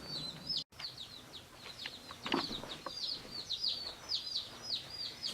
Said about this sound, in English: It seems like they quiet down a little bit once they hear the quietness of the house